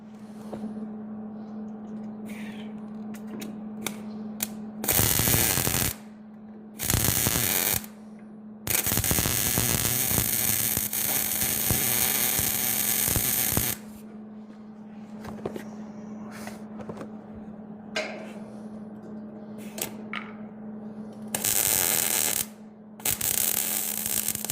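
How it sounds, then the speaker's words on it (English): Arc welding on cracks in a flatbed trailer, crackling bursts in several bursts of a second or more, one long stretch near the middle, over a steady electrical hum and quiet gaps. "All right, I'm gonna weld."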